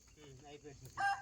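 A rooster crows briefly at a lonely rural house in the forest, a short, fairly faint call rising at the end, with murmured voices and background noise beneath.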